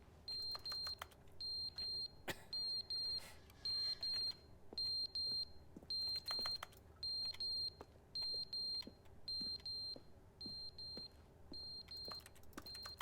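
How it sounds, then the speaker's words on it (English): A steady electronic beeping in the video game The Stanley Parable: Ultra Deluxe repeats in an even rhythm of high, thin tones, faint and continuous, over a low murmuring background. "Something's beeping, but I can't see what it is."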